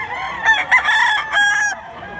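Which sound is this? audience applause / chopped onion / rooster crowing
rooster crowing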